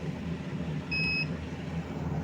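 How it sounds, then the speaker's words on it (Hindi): An egg incubator's alarm gives one short, clear electronic beep over a steady mechanical hum of fans and wiring, with no voices during the tone. "इसने जो है अलार्म करना स्टार्ट कर दिया।"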